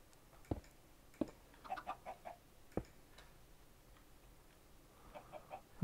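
Chickens in Minecraft give soft, sparse clucks in a quiet scene, mixed with a few sharp clicks spaced apart.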